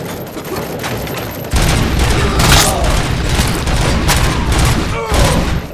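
Dense, continuous gunfire from the video game Robocop: Rogue City during a bank heist, a loud fusillade of overlapping shots and booms with voices shouting beneath it.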